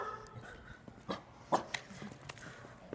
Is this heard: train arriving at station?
no